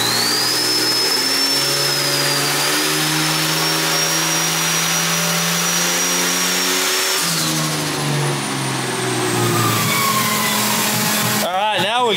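A twin turbo Ford AU Falcon engine running on a dyno, loud and close, holding a steady drone with a whistling turbo whine before dropping back and revving again, with no talking.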